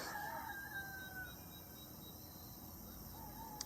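A rooster crows faintly in the distance among chickens on rural land in Potsin, with crickets and insects buzzing steadily in the quiet background.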